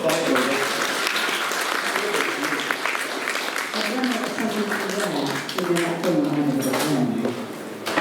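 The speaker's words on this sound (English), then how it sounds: "That's worthy of a round of applause." Audience applause at a Doctor Who fan panel, a dense, steady round of clapping through the whole stretch, with voices talking over it.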